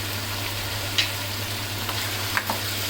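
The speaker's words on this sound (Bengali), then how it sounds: "এখন এটাকে আমি আরও ভালো মতন কষিয়ে নিব কিছুক্ষণ" Ground cumin and garam masala sautéing in a pan for Afghani Kabuli pulao, a continuous soft sizzle with a few faint scrapes of the spoon, heard over a low steady hum, with no talking.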